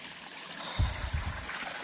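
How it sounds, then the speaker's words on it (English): A small stream on the Appalachian Trail flows and trickles close by in a steady wash with a few low gurgles, alone without voices. "This is the last stream before my pickup point."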